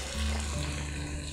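Onions sautéing in oil over a low flame, a steady, close, even sizzle with no talking.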